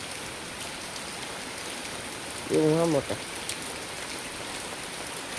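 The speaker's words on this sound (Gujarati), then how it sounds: "ચાલુ જ છે વરસાદ આવે છે" Steady monsoon rain falls across a village near Kutiyana, a constant even hiss that fills the whole stretch, with a short burst of a voice near the middle.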